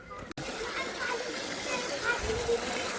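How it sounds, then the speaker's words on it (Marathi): Water pours and splashes into a bucket, a continuous rushing slosh at moderate level after a brief click at the start, with people talking over it. "चला पाणी घेऊया पहिले तिथून भरून"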